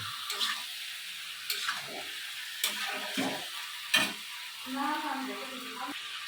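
Duck meat and ash gourd are sautéed slowly in a pan with spices and salt: a soft, steady frying sizzle broken by repeated scraping and clacks of a stirring spatula, moderately close.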